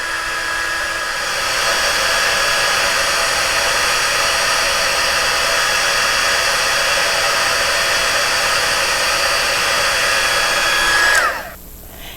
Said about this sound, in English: next we're going to take our handy dandy heat tool